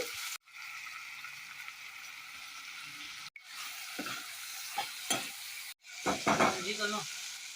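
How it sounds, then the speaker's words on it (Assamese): Chicken gizzards frying in a pan with salt, cumin, coriander, black pepper and turmeric, a steady close sizzle broken by short pauses and scraping stirs that grow louder toward the end. "আমঠুখিনি মই অলপ সময়ৰ কাৰণে ভাজি থাকিম।"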